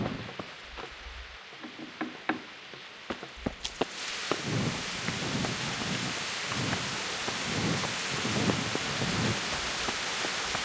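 Night thunderstorm in Kingdom Come: Deliverance: steady heavy rain hiss fills the scene, with rolling thunder rumbles swelling underneath and a few sharp crackles early on.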